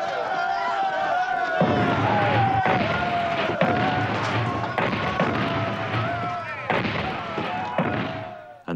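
A large crowd of protesters in 1970 Quebec fills archival film with a steady, dense roar of many voices and scattered shouts, punctuated by several sharp thuds and bangs throughout.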